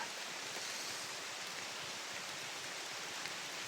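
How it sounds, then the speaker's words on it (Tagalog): Steady rain falls in a forest, a dense, even hiss of drops on leaves with no clear pattern, heard without voices. "Dahil sa ulan."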